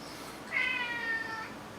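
A house cat gives a single drawn-out meow, faint and somewhat distant over steady room noise.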